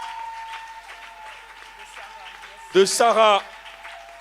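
Brief burst of applause from a church congregation acclaiming the Lord, rising suddenly after a sustained tone and lasting about half a second, following a short spoken phrase.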